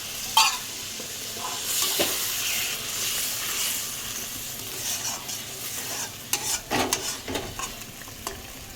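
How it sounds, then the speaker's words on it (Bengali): Doi potol curry is stirred in a hot pan after a little water goes in. A soft sizzling hiss runs under steady stirring, then a few louder scraping strokes follow near the end. "এবার একটু হালকা জল দিয়ে দেবো, বাটি ধোয়া জল।"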